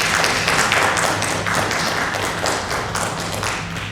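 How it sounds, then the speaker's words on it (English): Audience clapping for young trumpet players at a school brass ensemble concert, a dense, even round of applause that holds steady for the whole stretch and tapers slightly near the end. "Let's give them a round of applause."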